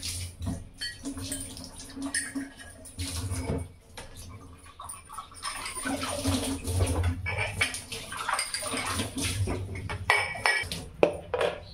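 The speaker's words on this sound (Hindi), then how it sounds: "नाश्ते के जो बर्तन थे उनको धोने जा रही हूँ" Dishes clatter and clink under running water, with steady splashing and scraping of pots and utensils throughout, close and continuous.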